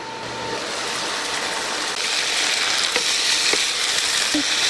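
Sauce with sugar and cumin seed cooking down in a pan, a steady loud bubbling sizzle that holds throughout with scattered small pops and crackles, close up and without voices.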